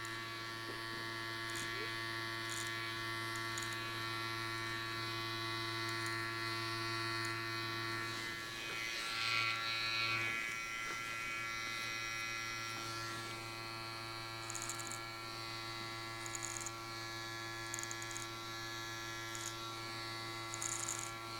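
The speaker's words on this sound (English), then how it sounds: "if it's not effective, then I'm going to use a little bit more pressure, and you should hear a little bit more hair cut" Electric clippers buzz steadily while cutting beard hair, with brief changes in tone as pressure increases and the blade bites into the hair, close and constant throughout.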